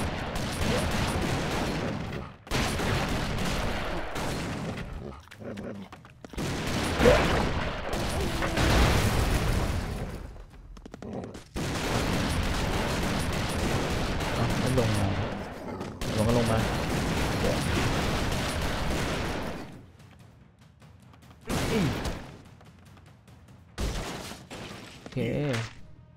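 Gunfire and explosions from the side-scrolling action game Broforce, with rapid shots and crashing blasts filling most of the stretch and a few brief pauses between bursts.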